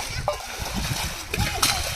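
Water sloshing and splattering as a family empties a large pond to catch fish, with irregular nearby splashes under voices talking throughout.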